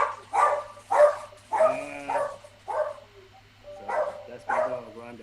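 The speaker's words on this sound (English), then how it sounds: "that's my dog, Rondo." A dog barks repeatedly indoors, a series of about eight mid-pitched woofs and yips in a steady rhythm, close and fairly loud, with faint background hum.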